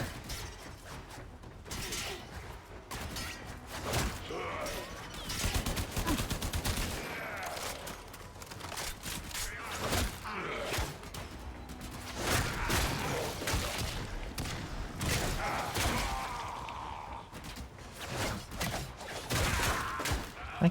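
Gunfire and clattering mechanical effects in the video game Warframe, dense and continuous bursts of shots layered with busy metallic noise throughout, with no talk.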